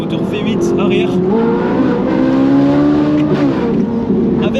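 A Ferrari 458 Italia's naturally aspirated rear V8 with an IPE exhaust revs and drones loudly and steadily throughout, its pitch rising and shifting, with a voice talking over it.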